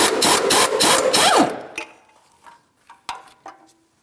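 A ratchet or power tool rapidly spins out engine mount bolts on a 2007-2014 GMC Sierra 2500 HD 6.0L V8, a loud buzzing burst followed by a few quiet metallic clicks and clinks.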